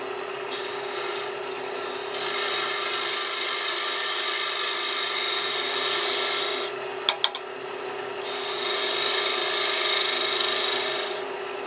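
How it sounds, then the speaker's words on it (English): A hand scraper works along the edge grain of a piece of wood, making a long, steady rasping scrape that stops briefly, resumes, and is broken once by a couple of sharp taps. The sound is close, loud and alone. "You can tell by those shavings that I'm scraping it out."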